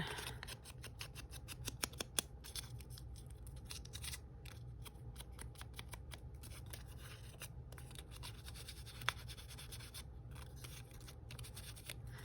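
Postcard paper edges being roughed up by hand, a steady dry scraping and rasping that runs throughout at close range, with a few sharper snips or clicks standing out.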